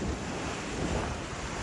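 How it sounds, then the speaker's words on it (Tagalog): Geothermal hot spring water at the Wairakei Terraces bubbling and gushing, a steady, dense broadband rush of churning water that stays loud and continuous throughout, with no talking. "Ayan, bumubulok yung tubig."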